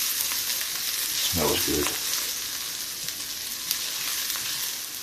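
Garlic fries in a pan for a gluten-free chicken and mushroom risotto, a steady close sizzle with light stirring scrapes; someone briefly speaks over it.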